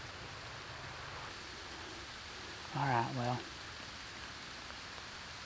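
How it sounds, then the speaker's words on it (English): Steady rain falls outdoors in the woods during an archery deer hunt, a continuous soft hiss throughout with a brief spoken remark partway through. "it has not stopped raining"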